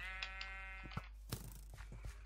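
A sheep bleats in the video game Minecraft, a faint, wavering cry at the start followed by a few soft thuds over a steady low background hum.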